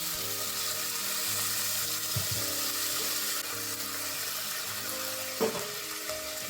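Water hits a hot pan of green papaya ghonto with ginger and green chili paste, setting off a loud, continuous sizzle with a watery hiss. A brief clatter comes partway through.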